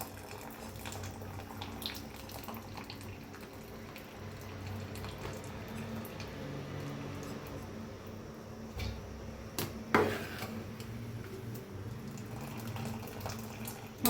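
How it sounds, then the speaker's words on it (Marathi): Water from cooked rice is poured off through a strainer, making a soft, steady running trickle, close and fairly quiet, with a few faint clinks of utensils. "सगळं पाणी काढून घ्यायचं"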